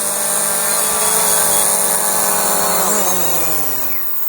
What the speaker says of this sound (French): Voilà, et on va arrêter notre petit drone.